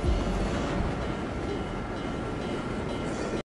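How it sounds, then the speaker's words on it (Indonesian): Train passing in a scene from the Korean drama Connect: a dense, loud rumbling roar with rattling wheels, continuous and close, cutting off abruptly at the end. "akhirnya Ha Dong-soo bisa diselamatkan oleh kereta api yang lewat"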